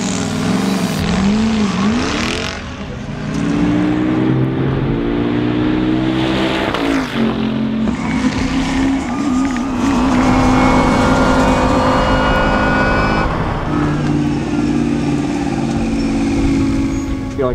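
Bentley race car on track, set up with M-Sport, its engine a loud, continuous drone that rises and falls through gear changes and revs, with engine harmonics sweeping throughout and no pauses.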